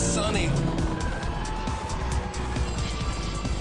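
A Porsche 911 GT3 skids through a double right-hand corner on a track after braking from high speed. The engine roars loudly and steadily up close, mixed with tire scrub and wind, with no clear break.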